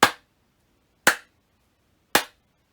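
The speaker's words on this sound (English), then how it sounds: "And now clap again." Three sharp, separate hand claps about a second apart ring out close and crisp against silence during a children's mindfulness exercise.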